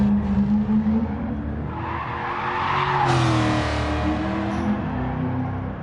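A 1966 Shelby Cobra 427 in a racing game squeals its tires through a long corner, the screech rising and holding over a steady engine drone, loud and close.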